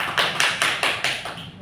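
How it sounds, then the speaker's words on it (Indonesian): A classroom of students claps for a classmate during a microteaching lesson, roughly seven sharp, evenly spaced bursts of close, loud clapping in unison with no talking. "Beri tepuk tangan dulu buat Mbak Riris."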